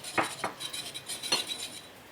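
A metal saucepan and utensils clink and clatter on a kitchen counter while agar-agar is being prepared, with three or four sharp, light metallic taps spaced apart and no voices.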